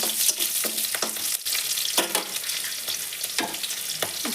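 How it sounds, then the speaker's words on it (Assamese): Cauliflower and potato fry in a hot pan with a steady close sizzle, broken by repeated scraping stir strokes at an uneven rhythm; no one speaks. "এই ফুলকবি আৰু আলু এই ভাজিটো ইয়াতে দি দিলোঁ"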